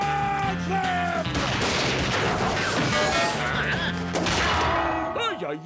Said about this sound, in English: Shoot 'em, boys.